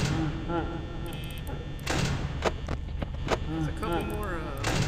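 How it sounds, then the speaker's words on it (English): Dull knocks on a door in the FNAF 2 video game land as a few separate thuds, heard under a voice talking over steady game audio. "There's a couple more knocks on the door."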